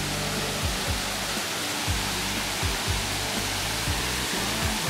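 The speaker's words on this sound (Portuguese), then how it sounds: "Aqui é a cachoeira, olha só, não é muito grande, mas bem bonitinha" Small waterfall at a bathing resort in Mato Grosso do Sul, a dense, steady rushing roar of falling water filling the whole clip, close and loud with faint low thumps underneath.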